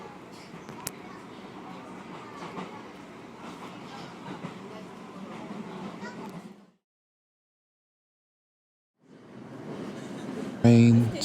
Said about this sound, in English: It was about a 1 to 2 hour train ride.